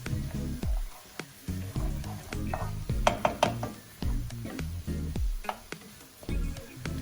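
Spam cauliflower fried rice is stirred in a pan, with repeated scraping and clattering strokes of a utensil against the pan over a low sizzle, in an irregular rhythm that stays close and fairly loud.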